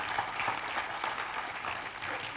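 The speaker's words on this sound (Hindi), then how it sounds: "अपने लिए एक बार ताली बजा लीजिए।" An audience claps steadily at a motivational talk, a dense, even wash of applause lasting throughout, fairly loud and without pauses.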